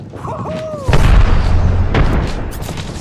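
Airstrike explosions in the video game Apex Legends: a thin whistling tone, then a heavy, loud boom followed by a second rumbling blast that lingers as a low roar.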